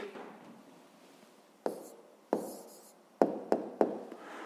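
A pen writes out a math answer by hand on paper, soft close scratching broken by several sharp taps as strokes and marks land, with no talking.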